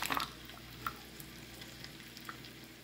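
Soy sauce hitting a hot pan for a pineapple chicken gravy sets off a loud sizzle and spatter that settles into a steady low frying hiss, with a few faint stirring scrapes, no voices.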